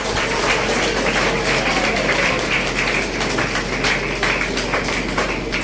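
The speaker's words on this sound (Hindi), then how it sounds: "तालियों से स्वागत कीजिए।" Applause from an outdoor gathering of villagers welcoming guests at a ceremony honouring Nisha Phogat, a steady continuous clatter of many hands lasting several seconds with no talk.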